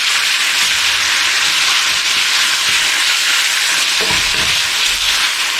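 Venison blood sausage with oatmeal goes into a hot pot, producing a loud, close, steady hissing sizzle that continues the whole time, with a brief low knock near the end.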